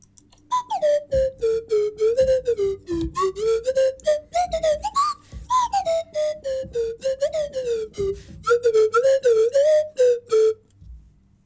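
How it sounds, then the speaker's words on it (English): A slide whistle plays a wavering, gliding melody in quick bursts, pitch sliding up and down through several phrases, loud and close with no talk over it. "Do you want to go out on a slide whistle duet?"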